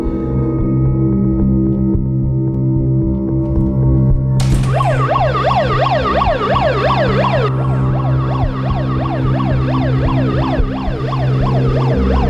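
A wailing emergency siren, an ambulance called to a medical crisis, rises and falls in rapid repeated sweeps over a steady droning hum, loud and close, sounding alone without voices for most of the stretch.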